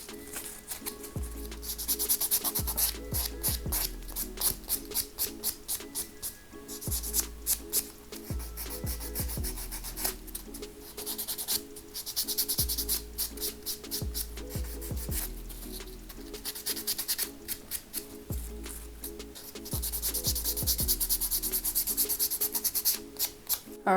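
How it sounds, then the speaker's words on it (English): Nail buffer rubbed around the cuticles of fingernails, giving rapid rhythmic scrubbing strokes in repeated bursts with short pauses, close and fairly loud throughout. "I'm just gonna buff real good around the cuticle and make sure that everything is nice and cleaned up here."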